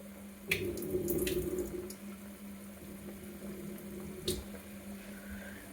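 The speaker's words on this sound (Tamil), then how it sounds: "அதை வாட்டர் ரின்ஸ் பண்ணிவிட்டு இதில் ஆட் பண்ணலாம்" Water runs over soaked basmati rice as it is rinsed for a mushroom biryani, a faint steady flow with a couple of soft splashes, close by and without talk.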